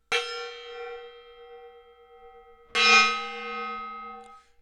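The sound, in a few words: gong struck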